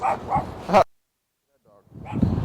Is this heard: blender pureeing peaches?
no